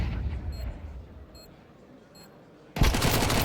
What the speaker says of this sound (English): Send in that MAC-10 to finish the job.